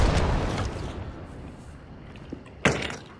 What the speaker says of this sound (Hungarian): Lövök egy robbanósat oda neki.